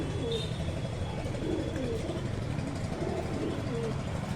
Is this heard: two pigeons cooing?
yes